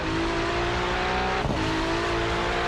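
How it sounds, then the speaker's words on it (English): Race car engines in the IMSA Shadow Series at Road Atlanta scream at full volume from an onboard view behind the cars, a loud, sustained high-revving drone with a brief dip and surge midway. "You can just hear the car sound, full volume, get a good view of the cars from behind."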